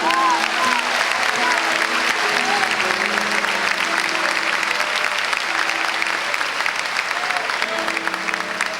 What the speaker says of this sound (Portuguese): Vamos aplaudir a Deus pela vida dele.